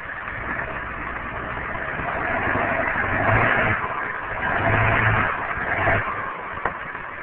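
A big 4x4 truck engine rumbles and revs steadily while backing up, swelling louder twice with a low drone, close by and without speech.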